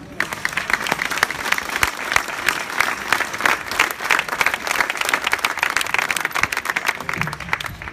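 Sustained applause from an audience at a rally in support of Christians in Saint-Cloud, dense steady clapping filling the full eight seconds, with faint voices mixed in.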